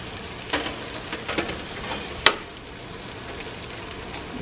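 Potatoes fry in hot oil with a soft steady sizzle, punctuated by a few brief crackles and one sharp clink, with no voices.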